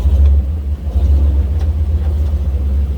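A side-by-side off-road vehicle on 4.10 gears and 37-inch tires idles and pulls in low-range first gear at Kane Creek, its engine a loud, close, continuous low rumble with slight surges.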